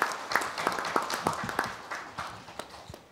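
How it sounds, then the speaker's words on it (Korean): Audience applause after a presentation at a local council public diplomacy forum, a burst of scattered claps that thins out over about three seconds, fairly distant in the hall. "다시 한번 박수 부탁드립니다."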